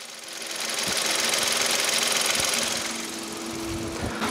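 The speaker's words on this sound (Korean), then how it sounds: "일단 엔진 소리 바로 들려드릴게요." A small three-cylinder Kappa engine, just under 1000cc, in a Ray light car idles up close with a steady, slightly uneven thrum and faint mechanical ticking, no voices over it.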